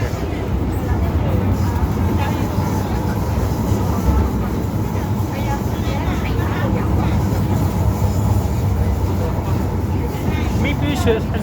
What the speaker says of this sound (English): the C train just departed